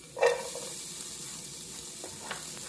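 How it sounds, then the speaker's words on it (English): Green peppers, celery and red onions sautéing in a pan as soup aromatics, a soft steady sizzle with a brief louder burst near the start and a faint stir or clink later. "You don't want to steam your vegetables, you want to saute them at this point."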